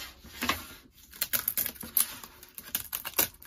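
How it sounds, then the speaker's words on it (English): Brittle dry wood ribs of a hand-cut joint on a Torii gate gong stand snap off in a quick irregular series of sharp, close cracks and clicks, with no talking. "they're just snapping off with nice brittle dry wood"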